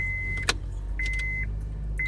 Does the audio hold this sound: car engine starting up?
yes